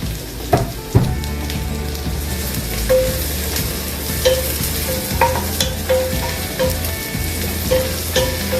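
Onions frying in butter in a home kitchen pan, making a steady broadband sizzle with intermittent clinks and scrapes of a utensil stirring, close and moderately loud throughout.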